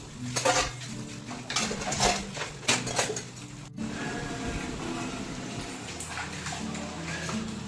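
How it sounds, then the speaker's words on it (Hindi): Dishes and utensils being washed in a kitchen sink clatter and clink in irregular knocks over a steady run of water, fairly close, with no one speaking. "सारे बर्तन हमने मल लिए हैं और अब हम इन्हें धुल लेते हैं"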